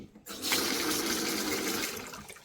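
A kitchen tap runs steadily through a Philips AWP3704 on-tap water filter set to filtered mode, a close, continuous hiss of flowing water that starts abruptly and carries on without any voices.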